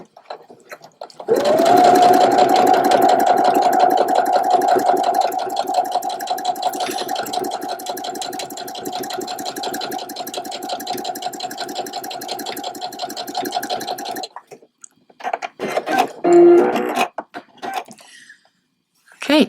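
Twin-needle stitching on a sewing machine: a loud, steady motorized whir with a fast needle chatter runs for about thirteen seconds, then stops and restarts in brief short bursts.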